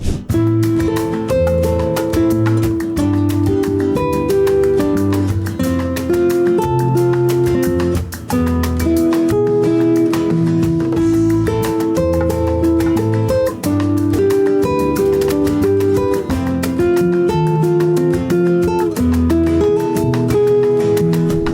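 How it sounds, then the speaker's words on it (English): Spanish guitar practice lick played over a backing track, a steady flow of plucked notes with percussion and bass beneath, loud and continuous throughout. "I'll show you what it sounds like with the backing track."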